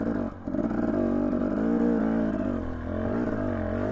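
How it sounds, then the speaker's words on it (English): Two-stroke dirt bike engines buzz and rev on a trail in Idaho City, Idaho, loud and close, with rising and falling pitch as the throttle opens and eases off, with no talk. "These two-strokes are really great trail bikes"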